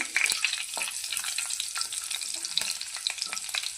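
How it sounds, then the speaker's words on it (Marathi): Cumin, mustard seeds and chopped garlic fry in hot oil, crackling and sizzling steadily with sharp popping spatters and scraping stir sounds close by, no voices present. "तेल गरम झालेलं आहे त्याच्यामध्ये जिरा मोहरी टाकून घेऊया त्यानंतर बारीक केलेला लसूण हे चांगलं मिक्स मिक्स करून घेऊया"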